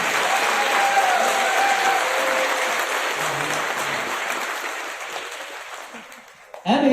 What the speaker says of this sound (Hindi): दिल से ताली बजा सकते हैं